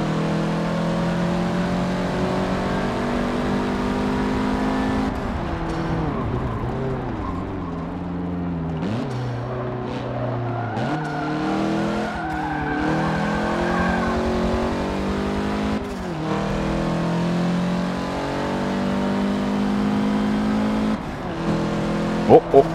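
Engine of a 2004 Mitsubishi Lancer MR driven on the Nordschleife in the Forza Motorsport 7 racing game: a continuous, close engine drone rising and falling through gear changes, with occasional tire noise and someone talking over it.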